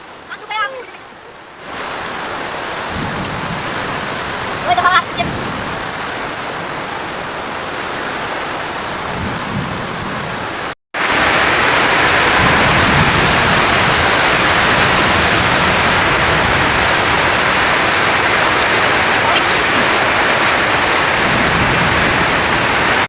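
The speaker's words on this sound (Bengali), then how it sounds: "মোটামুটি ভালো বৃষ্টি হয়েছে আশা করি সবার ভালো লাগছে বৃষ্টিটা" Heavy rain falling steadily outdoors in a continuous dense hiss, with brief distant voices early on, a sharp cut near the middle, then even louder unbroken downpour to the end.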